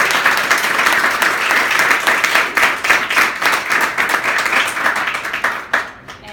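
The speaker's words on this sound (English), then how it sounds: "give yourselves a round of applause" An audience at a school civics competition applauds in a dense, sustained round of many hands clapping, loud and close, then thins out and stops near the end.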